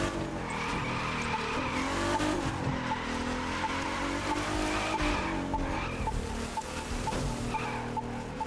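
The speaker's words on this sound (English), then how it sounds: "I generally don't use this car for drifting." A car drifts in The Crew 2 racing game, tires squealing continuously over a loud, steady engine roar with shifting pitch, no voices.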